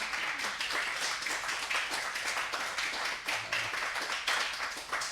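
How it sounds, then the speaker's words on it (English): A poetry event audience applauds a reading with dense, continuous clapping that is moderately quiet and slightly distant, sustained throughout. "So a round of applause for everyone"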